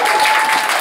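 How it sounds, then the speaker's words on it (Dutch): An audience at a stage event claps in a loud, dense, even burst lasting under a second. "Geef een applaus."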